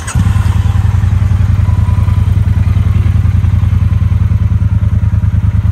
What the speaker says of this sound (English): Nice engine note on these bikes, even stock pipes out the box.